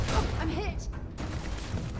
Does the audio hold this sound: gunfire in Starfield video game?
yes